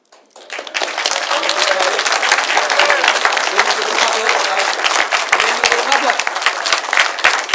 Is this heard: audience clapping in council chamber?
yes